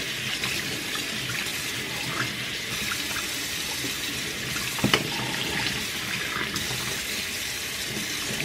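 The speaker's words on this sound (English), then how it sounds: "I like to wash it inside out and then just let it rinse like this." Tap water running steadily into a sink while DTF printer syringes are rinsed, a continuous close hiss of flowing water with a small clatter midway.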